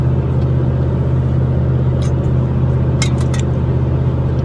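Steady low engine drone and road rumble inside a Jeep Grand Cherokee ZJ on cruise control along a highway, continuous and even, with a few faint brief ticks over the hum.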